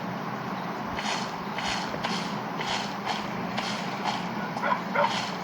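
A dog in a video game barks in a regular series of short, moderately loud yaps about once a second, over a steady background of game sounds.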